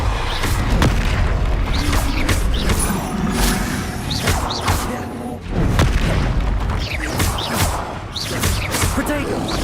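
A Depulso spell blast fires in the video game Hogwarts Legacy, with repeated booming thuds and whooshes over dense, loud combat noise, one heavy burst after another.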